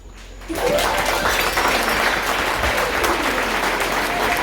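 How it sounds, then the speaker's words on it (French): A church congregation bursts into applause after a brief quiet start, loud sustained clapping filling the room with a faint crowd murmur underneath. "je vais t'inviter à mettre debout et applaudir bon Dieu."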